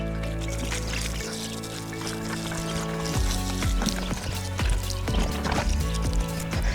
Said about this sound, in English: I'm going to water some of these plants right now because they're looking a little dry.